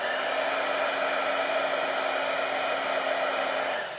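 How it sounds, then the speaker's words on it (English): An embossing heat gun blows hot air during a faux enamel glass craft technique, giving a steady, close whooshing roar with a constant motor whine for about four seconds before it cuts off. "now we're going to use our embossing gun and we're going to heat it"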